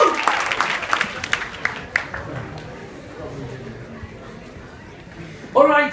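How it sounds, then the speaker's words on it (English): An audience at a youth summit gives a dense round of applause that starts loud and fades to a low murmur of crowd chatter, and a voice cuts in briefly near the end. "round of applause for all of you"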